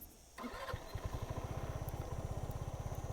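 A 2025 Next NX2 125cc scooter engine cranks and catches, then settles into a steady, rapid idle putter close by.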